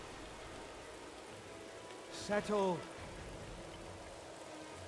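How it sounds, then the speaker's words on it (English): Steady hiss of freezing rain falls across the Battle for Middle-earth battlefield at Helm's Deep, a constant even wash of noise with a brief spoken voice over it midway. "Oh boy, the freezing rain."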